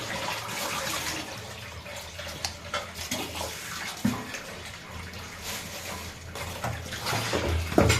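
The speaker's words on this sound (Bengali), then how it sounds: "এটাও সুন্দর করে ধুয়ে দিলাম।" Small fish rinsed under running water in a kitchen, a steady splashing stream with scattered knocks and clatters of handling.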